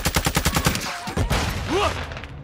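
Rapid gunfire in a hardcore Call of Duty match on the Santa Sena map, a dense run of close, loud shots in the first second, followed by game effects and scattered battle noise.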